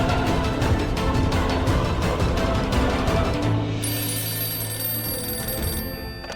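An electronic telephone ringing in repeated rapid trills, loud and close, ending with a steady tone.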